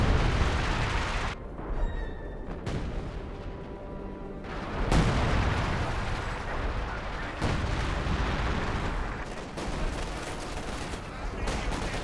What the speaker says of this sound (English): Oh, that was a Mills Bomb.